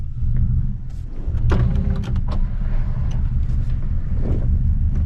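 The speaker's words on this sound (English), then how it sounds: "we're just gonna go for a little drive back home" Steady low engine and road rumble from inside a car driving home, with a few light thumps and rattles over the constant drone; no one talks.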